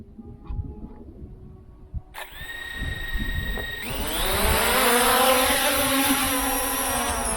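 A CFly Faith 2 drone starts up, its motors whining into rising tonal pitches after a short click, then settling into a loud, steady buzzing hum with a wash of propeller noise close by.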